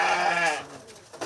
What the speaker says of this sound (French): C'est le cas de Marcel, éleveur de moutons.